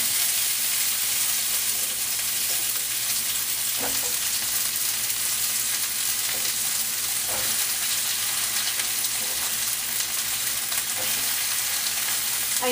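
Eggplant sizzles steadily in a hot pan, a dense continuous crackle of frying with occasional soft clicks of stirring, close and fairly loud, with no talking.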